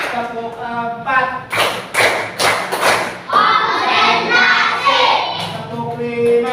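A classroom of children claps in unison, sharp rhythmic bursts in counted groups, close and loud, with a teacher's voice speaking between and over the claps.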